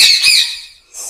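A parrot at a breeding aviary lets out two harsh, loud squawks close by, a short gap of quiet between them, with no talking.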